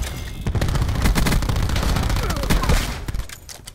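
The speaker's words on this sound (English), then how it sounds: "Cluster grenade going out." Cluster grenade detonating in Black Ops 4 on the Safeguard map, a dense loud burst of rapid overlapping explosions crackling continuously for about three seconds before tapering off.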